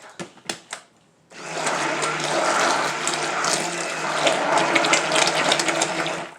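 Soap colouring whisked into a thick batch for a tea and cucumber soap, a few short knocks and taps, then a steady continuous whirring mix that runs loud and unbroken to the end.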